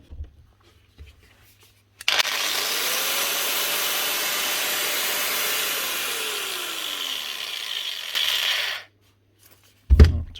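A 2017 Hitachi G12 STX angle grinder, an older model, runs alone for about seven seconds with a steady, loud, gritty whine that rises and falls slightly in pitch before cutting off.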